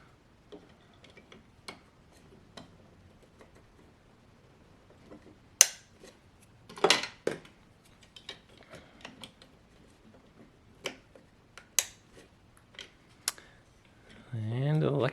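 Plastic keys of a Medeli SP5500 digital piano snapped back into place one by one during a key repair, giving sharp isolated clicks spaced irregularly over quiet, with a voice starting at the very end.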